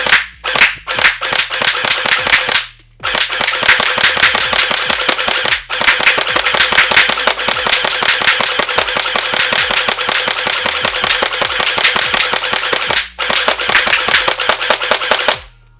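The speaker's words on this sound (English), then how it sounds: "Let's see how fast this blaster shoots." A YaGee DGR BO9 gel ball blaster fires rapid strings of sharp, loud snapping shots in long continuous bursts, broken by a few brief pauses.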